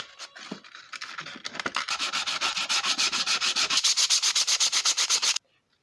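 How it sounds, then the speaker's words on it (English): A pewter casting is sanded with 100 grit sandpaper in fast, even back-and-forth strokes, rasping loud and close. The strokes start out uneven, settle into a steady rhythm of about twenty passes, then stop abruptly. "I'm going to just sand those out quickly and then go back to the 100."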